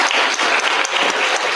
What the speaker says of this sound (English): Give Ashley a warm round of applause